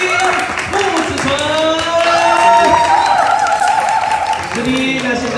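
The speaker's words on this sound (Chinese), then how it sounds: "现在呢，就让我们先掌声欢迎我们的苦力男儿组" Sustained applause and cheering from a crowd at a film premiere press conference, welcoming three actors onto the stage; steady loud clapping with whoops, speech heard over it.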